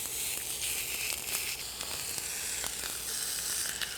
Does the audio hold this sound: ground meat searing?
yes